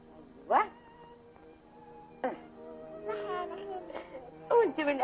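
A cat meows close by several times, in short rising and falling cries spread across a few seconds. Someone talks quietly in the background.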